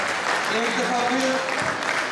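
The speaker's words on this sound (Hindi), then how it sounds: "इस बच्चे के लिए भरपूर तालियां" An audience claps for a child at a live performance, a dense, steady patter of applause throughout with a voice speaking over it.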